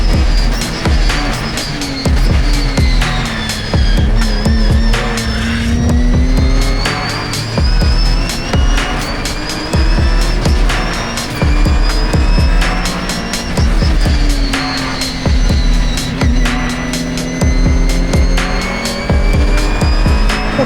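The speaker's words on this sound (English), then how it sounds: "the safety car pulls in and the race roars back to life" Race cars in a Britcar Endurance race at Snetterton, including a Ginetta, roar past continuously after a safety-car restart, with loud engine notes sweeping up and down through gear changes, sustained and close with no talk.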